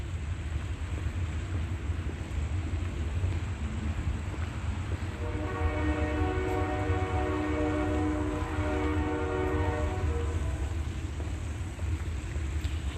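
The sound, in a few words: Amtrak passenger train passing on tracks with horn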